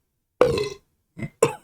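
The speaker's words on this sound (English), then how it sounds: "That was a burp and cough," A loud, drawn-out burp, then a short gap and two brief throaty bursts that sound like coughs, close to the microphone with no talk.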